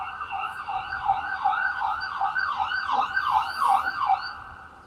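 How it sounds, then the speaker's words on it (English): An ambulance siren wails in a repeating rising-and-falling pattern, moderately loud and fairly close, continuing steadily without any talking. "let me let the ambulance go by"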